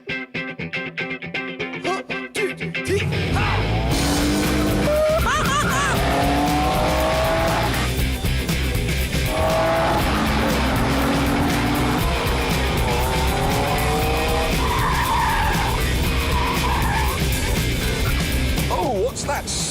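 Cars, one of them a Morgan, race around a short loop with engines revving loud and close and tyres squealing through the bends, while someone talks over the din.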